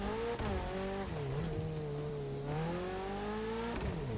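A race car engine in The Crew Motorfest hums and revs through gear changes during a street tier 1 race, the pitch climbing and dropping steadily, loud and continuous with no talk.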